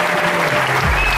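Applause from a crowd at an ice hockey season-opening event in Bad Nauheim, greeting a youth player; a steady wash of clapping fills the short moment at close range.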